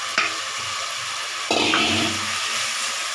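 Tomatoes and vegetables being sautéed in a pan for sunberry tamarind gravy, a close sizzle with two sharp bursts as ingredients hit the hot oil and stirring scrapes.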